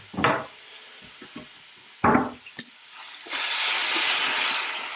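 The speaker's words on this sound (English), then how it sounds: "I'm just going to deglaze the pan with a touch of red wine vinegar." A hot pan deglazed with white wine vinegar: a few clanks and scrapes, then a sudden loud hissing sizzle that holds strong for the last couple of seconds.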